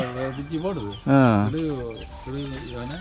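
Several chickens cluck and murmur nearby, one louder squawk rising above the rest, with a person talking faintly in the background.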